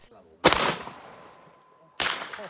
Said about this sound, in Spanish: Ese trueno fue de la escopeta.